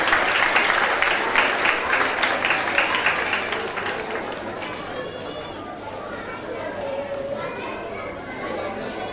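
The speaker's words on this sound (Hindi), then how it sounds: "तालियां नहीं रुकनी चाहिए।" At a Sundas Foundation gathering, an audience applauds loudly at first, then the clapping fades into a crowd murmur with chatter and children's voices over the last few seconds.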